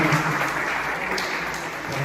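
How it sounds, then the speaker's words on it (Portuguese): A church congregation applauding together, steady dense clapping throughout with no breaks, fairly loud and filling the room. "vamos aplaudir Jesus"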